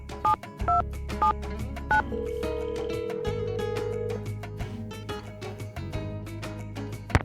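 Touch-tone telephone dialing in the Nancy Drew game Secret of the Scarlet Hand: a quick run of distinct keypad beeps, followed by a steady ringback tone over a low background hum.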